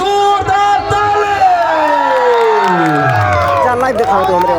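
A crowd at a Tharu music stage show roars and cheers as a Tharu singer is called up, with loud, continuous shouting and whistling glides rising over the dense din.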